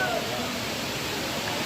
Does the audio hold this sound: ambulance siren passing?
no